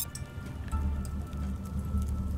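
Steady rain falling in the survival game The Solus Project, a continuous dense patter that stays even and fairly loud across the whole stretch, with no voices over it.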